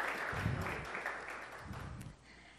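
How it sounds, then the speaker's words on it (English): Audience applause at a talk on smart medical device security, a faint, dense wash of clapping from a crowd that tapers off near the end. "Give them a round of applause."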